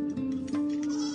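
Goats bleating in the Omo Valley of Ethiopia as nomadic herders bring the herd in for evening milking at nightfall; one sustained, wavering bleat, close and fairly loud, with other animals faintly behind.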